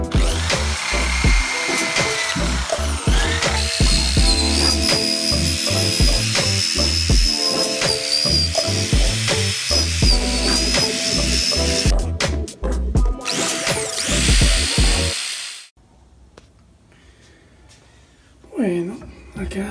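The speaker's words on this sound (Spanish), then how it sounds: "Tengo acá la agujereadora con cepillo de alambre para" A power drill fitted with a wire brush scrubs rust off the engine of an abandoned Gilera Smash 110 motorcycle under restoration, grinding loud and steady for about fifteen seconds, then stopping abruptly, leaving a quiet room with a faint bump.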